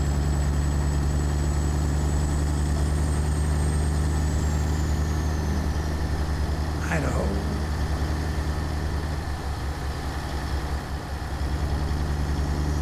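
A heavy-haul truck engine in American Truck Simulator, hauling a B-double flat deck: a low steady idle-like drone hums throughout, with a faint tone sweeping past midway, under a short spoken word.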